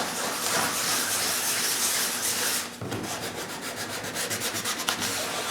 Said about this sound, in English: On inspection rings you can sand them in a circular motion